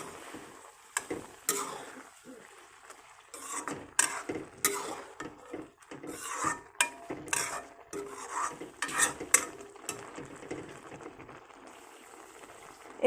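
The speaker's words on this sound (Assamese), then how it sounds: "অকণমান লৰাই দিওঁ।" Mashed potatoes being stirred into a pot of Assamese dal with taro greens, giving soft scraping, rubbing strokes of a spoon against the pot in an uneven rhythm, close and fairly quiet, with no talking.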